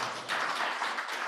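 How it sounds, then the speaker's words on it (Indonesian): Church congregation clapping during a Sunday worship service, a dense, steady wash of many hands applauding together throughout, fairly even in loudness with no talk over it. "Berikan tepuk tangan buat Tuhan"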